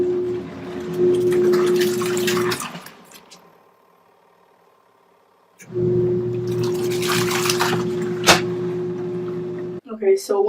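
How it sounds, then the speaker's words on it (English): Water drains out of a Giantex mini portable washer, running in a steady trickling pour with a hum, stopping partway, then resuming before a brief clatter at the end. "you just have to drain your water out"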